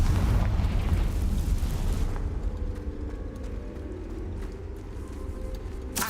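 Confringo blasting spell exploding in the video game Hogwarts Legacy, a loud, deep boom that rumbles and fades over a few seconds, followed by lighter crackles and a sharp pop at the end.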